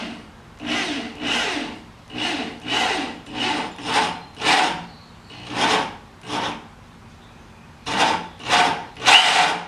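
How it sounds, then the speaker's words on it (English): A drill bores holes into a wooden door in a steady run of rasping strokes, each lasting about half a second, loud and close, with a short pause partway through and no talking. "Drill 2 offset holes to bore out the center."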